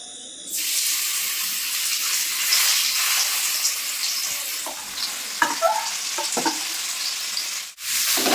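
Mashed olives sizzle in hot oil with a bay leaf and dried chillies for a sour-sweet olive pickle, a steady close frying hiss broken by a few scraping stirs near the end.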